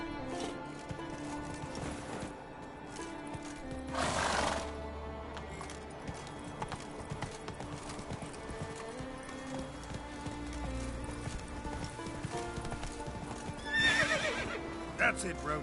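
Roach, the horse in The Witcher 3 video game, gallops with rhythmic hoofbeats under game music, letting out loud neighs near the start and again near the end, with a voice speaking briefly.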